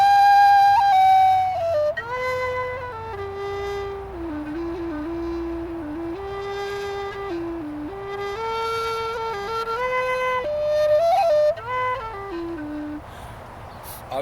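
A Goldfinch low D tin whistle plays a slow, breathy melody of sustained low notes with gentle steps between pitches, heard close and alone without talk.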